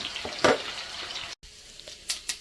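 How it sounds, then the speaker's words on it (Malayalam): Prawns fry in a pan, a moderate close sizzle with a few sharper spits and stirring clatters, broken by a brief cut, and no talk. "രണ്ട് ട്രിപ്പായിട്ട് പൊരിക്കാം."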